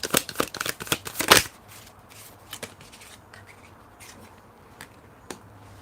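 Tarot cards are shuffled in a quick, crisp riffling burst up close, then settle into sparse soft flicks and taps as single cards are drawn and laid down.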